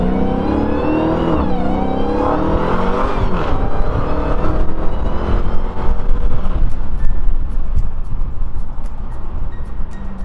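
The loud, deep V8 engine of a 2018 Dodge Challenger Hellcat Widebody revs hard and climbs in pitch as the car accelerates, close and roaring, then the tone drops off.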